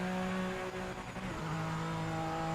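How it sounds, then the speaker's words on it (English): Honda NSX race car engine in Project Motor Racing: a continuous loud engine drone with strong steady harmonics, pitch dipping slightly mid-clip then rising again as the car drives on. "I think the Honda sounds a lot more like it will in real life actually"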